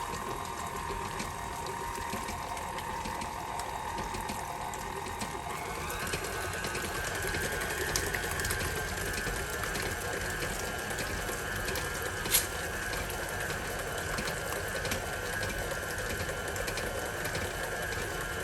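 An electric mixer whirs steadily through ground turkey and vegetable cup ingredients, with a constant moderate motor hum whose pitch rises slightly partway through and carries on without a break.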